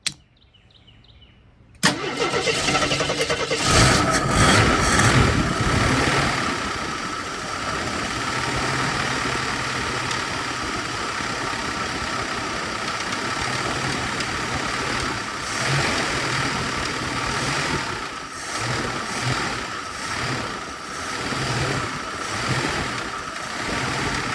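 After a quiet moment, a long-parked AMC Concord engine cranks and fires, then runs loud and close for about twenty seconds, its rough note wavering and dipping unevenly as it struggles to idle.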